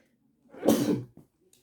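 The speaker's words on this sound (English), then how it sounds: "Need to sneeze." A single explosive burst of breath, like a sneeze, followed by a brief faint exhale in an otherwise quiet room.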